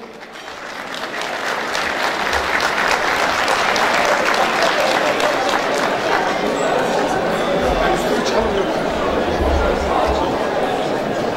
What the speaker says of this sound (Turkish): Sezgin Kızıltepe, Efraim Derindere, Gökhan Taşdemir'i alkışlarla sahneye davet ediyorum.